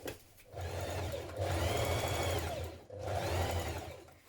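A sewing machine stitches a jean jacket seam in three close, loud bursts of motor whir, each starting and stopping with brief pauses between them.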